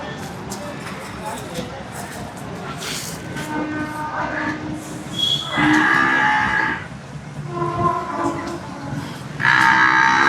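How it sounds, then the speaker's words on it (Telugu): Water buffaloes lowing in bursts at the busy Erragadda buffalo market, several drawn-out moos rising over crowd murmur and background chatter. "ఇవన్నీ ఈ రెండు కూడా సుడి గేదెలే"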